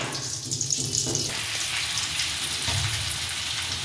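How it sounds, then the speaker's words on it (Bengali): Katla fish fingers frying in hot oil give a steady, close sizzle with a few soft stirring sounds, and nobody speaks. "অল্প আছে এগুলো ভেজে নিতে হবে লাল লাল করে।"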